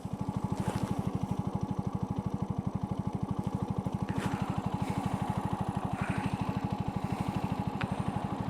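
A motorcycle engine runs steadily on a Ladakh ride, putting out a rapid, even thrum close by with faint wind noise over it and no talk.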